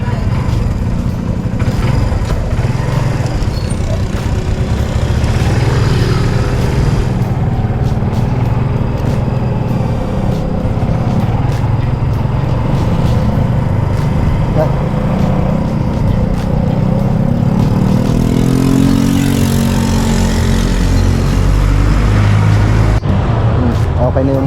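A repaired motorcycle engine runs steadily after a battery fix, a continuous loud low rumble with slight revving changes, close to the microphone and with no talk over it.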